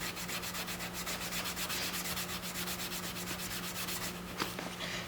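Steel wool rubbed over sun-faded, damaged ATV plastic, a steady close scratchy scouring with rapid back-and-forth strokes running continuously, ending with a few small knocks.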